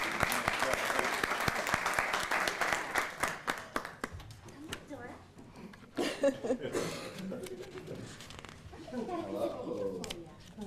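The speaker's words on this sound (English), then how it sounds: "Let's all clap for Riley." Applause for a preschool student at a school event: a crowd of hands claps briskly at first, then thins into scattered claps and shuffling as voices murmur underneath.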